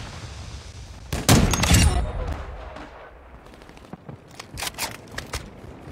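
Gunfire in a multiplayer shooter video game, with a loud burst of rapid shots early on, then scattered sharper cracks and softer pops further off.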